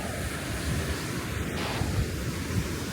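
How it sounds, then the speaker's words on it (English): Surf washes steadily onto the beach at Mui Ne, Vietnam, with the tide in, a broad continuous roar of breaking waves mixed with wind buffeting the microphone, no voices. "I'm on the beach,"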